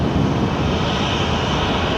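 A Qantas Airbus A330 airliner at Brisbane Airport, its jet engines a loud, continuous broadband roar close by, steady across the whole moment with no voices.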